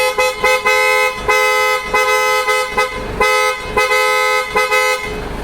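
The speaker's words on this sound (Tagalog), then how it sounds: "Sobrang lakas ng ating PIA Auto Style horn." Loud, brassy aftermarket PIAA car horns on a Ford Everest blast in a series of short and longer honks, close and repeated in an uneven rhythm.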